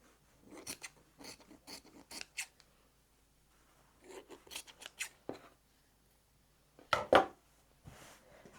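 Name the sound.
scissors trimming scrap fabric quilt block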